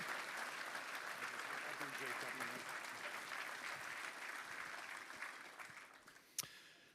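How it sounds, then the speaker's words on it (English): Sustained applause from a seated audience at the John Wooden "Keys to Life" breakfast, a dense, even wash of many hands clapping that slowly thins toward the end, with one sharp final clap. "ladies and gentlemen, one more round of applause for this year's Keys to Life"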